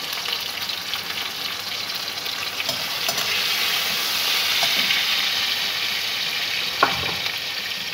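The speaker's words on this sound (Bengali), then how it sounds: "টমেটোর মধ্যে একটু লবণ দিয়ে দিচ্ছি যাতে টমেটোটা সিদ্ধ হয়ে যায় তাড়াতাড়ি।" Tomatoes with salt sizzle steadily in a pan, a close, constant frying hiss with occasional stirring clicks and scrapes, and no voices.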